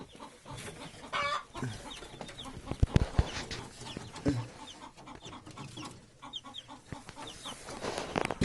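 Soft peeping and clucking of chicks, one of them sick, and hens close by, irregular calls scattered over faint background noise, with a few thumps.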